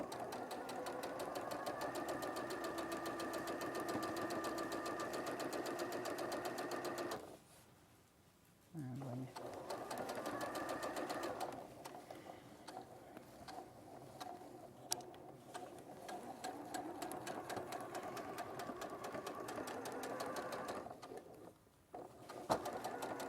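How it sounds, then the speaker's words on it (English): A sewing machine stitches fabric for a quilt assembly with a steady, rapid mechanical whirr and clatter, running in long stretches that pause briefly twice before resuming. "There is something very relaxing about a sewing machine sewing well, isn't it?"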